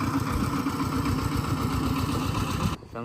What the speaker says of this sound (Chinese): 拖拉机